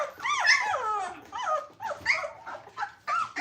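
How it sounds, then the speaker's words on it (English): Tiny 2.5-week-old Cane Corso (Italian Mastiff) puppies whimper and yip close by, a run of high, wavering cries in several bursts with brief pauses between them. "These are Cane Corsos, Italian Mastiffs"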